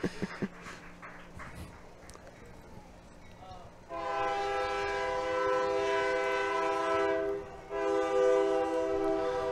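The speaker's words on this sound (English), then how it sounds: "the train is currently passing by us right now" A train rolls past near a baseball field, first a low rumble and faint clatter, then a loud, sustained horn blast that holds for several seconds, breaks briefly and sounds again.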